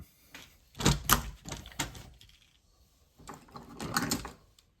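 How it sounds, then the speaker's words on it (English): A Busse Scrapyard Trash 2 knife blade being scraped to remove surface rust, with two clusters of short, rough scraping strokes separated by a brief pause, close and moderately loud. "Let's go ahead and scrape that a little bit."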